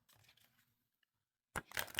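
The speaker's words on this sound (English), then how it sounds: "let's give it a shuffle and see how these cards shuffle" A stiff, matte 350 GSM rabbit-themed tarot deck is shuffled by hand, giving one loud, crisp burst of papery riffling and snapping near the end after a short stretch of near silence.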